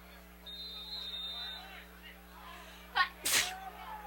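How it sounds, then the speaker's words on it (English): A quick, sharp sneeze bursts out near the end, preceded by a soft catch of breath, over a low hum of distant crowd noise at a high school varsity football game. "Gesundheit."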